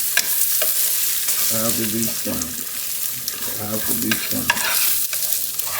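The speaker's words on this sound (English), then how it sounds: "take your Spatula? spatula and scramble your eggs. The eggs have to be scrambled." Eggs scrambled with a spatula on a grill, steady frying sizzle with repeated scraping and stirring strokes throughout, fairly close.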